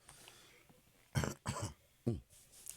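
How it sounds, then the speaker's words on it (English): A few sharp, close coughs with a brief throat clear, three abrupt bursts over a quiet room background. "I had to cough that up there for a second."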